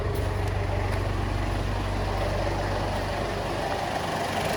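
A 2008 Ford Everest with a 2.5 Duratorq TDCI turbo diesel runs steadily and loud up close, a low, even engine drone with a constant rumble and no talking over it.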